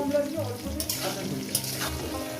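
Potatoes and drumsticks frying in a pan for a poppy-seed vegetable curry, with a soft steady sizzle, occasional stirring scrapes and clinks close by, no voices over it.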